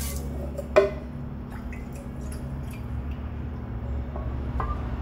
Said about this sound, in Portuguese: Você vai jogar um pouquinho de água aqui na panela, ó, só pra pegar esse saborzinho aqui.